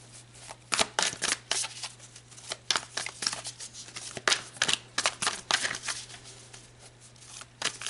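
Tarot cards being shuffled by hand, close and crisp, a run of quick riffling bursts and soft slaps in an uneven rhythm over a faint steady hum.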